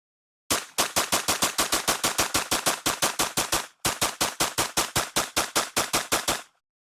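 A FarrowTech FT7 fires two long rapid strings of sharp, evenly spaced shots with a brief pause between bursts, loud and close, each report crisp and ringing.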